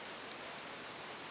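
Rain falls steadily at a lakeside dam at Bascov during fly fishing for bleak, a dense, even hiss of drops heard alone and fairly faint.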